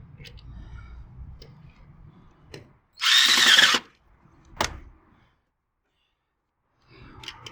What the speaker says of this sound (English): then you can use the drill motor.